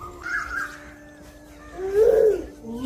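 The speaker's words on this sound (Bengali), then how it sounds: "সকাল সকাল দেখতে পাচ্ছি কিরকম পাখি ডাকছে।" Birds call on a village morning, with a couple of harsh crow-like caws standing out against a quiet outdoor background.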